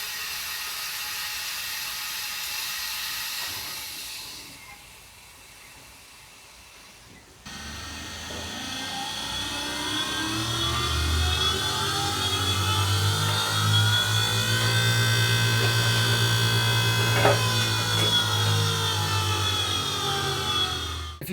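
A vintage car lift is lowered, with a quieter stretch followed by the steady whir and hum of its hydraulic mechanism, then a few mechanical clicks.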